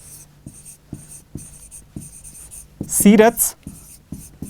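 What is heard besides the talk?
writing an answer by hand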